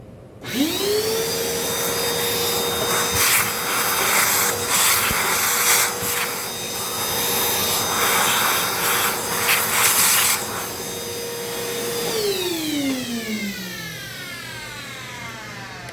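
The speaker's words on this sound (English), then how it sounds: "I'm going to run the shop vac real quick up top just to get some of this out" A shop vac runs loud and close while cleaning out an Anfim Scody II coffee grinder, its whine steady with scratchy rattles of nozzle and debris, then winding down as it shuts off.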